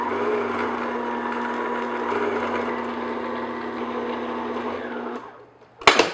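An electric mixer beats butter and sugar for a strawberry Breton tart, a steady whirring drone at medium-low speed close by, cutting off near the end before a couple of sharp knocks.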